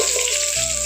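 Dried red chillies, a bay leaf, slit green chillies and cumin fry in hot oil with a continuous close, bright sizzle that crackles steadily, with no voices.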